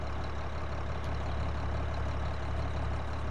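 A tractor engine idles in the Farming Simulator 22 video game, giving a steady, unbroken low rumble with a constant drone throughout and no talking.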